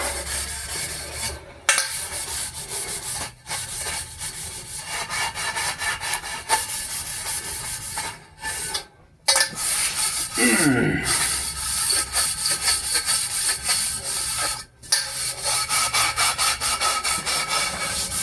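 Steady, continuous abrasive rubbing of 80-grit sandpaper against an inner pipe during boat work, loud and close, with a few brief pauses in the strokes.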